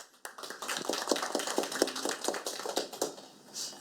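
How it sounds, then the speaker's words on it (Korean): A seated audience gives a brief round of applause at a formal Korean policy forum, dense overlapping claps starting abruptly and holding steady for a few seconds before thinning out, heard alone without talk. "여러분의 큰 박수로 모시겠습니다."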